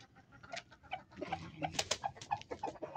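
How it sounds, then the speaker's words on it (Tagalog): Chickens and pigeons call outdoors on a rural farm, with soft repeated cooing and occasional clucks overlapping in an irregular rhythm at moderate distance. "nagsasabong na ang manok at kalapati"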